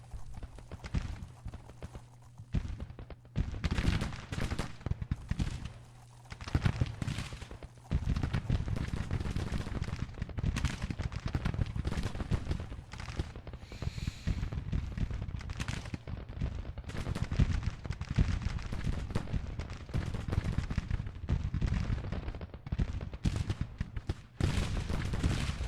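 Civil War battle in the Grand Tactician strategy game: dense volleys of musket gunfire and artillery crackle and thump continuously, with sharp bursts throughout, over a low rumbling background.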